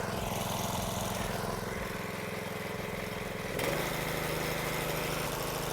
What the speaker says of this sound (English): We are up and running with the pressure washer after God knows how long